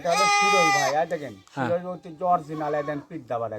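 A goat bleats loudly up close at a goat market, a long wavering cry followed by several shorter, shakier bleats.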